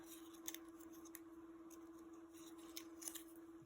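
Faint, sparse snips of scissors cutting paper craft pieces for a tulip fairy-house roof, a few short crisp cuts over a steady background hum.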